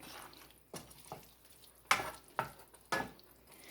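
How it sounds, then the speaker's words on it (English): Ground meat browns in a pan on the stove, a soft steady sizzle close by, broken by several sharper scrapes and pops as it is stirred. "we're going to finish browning up the meat"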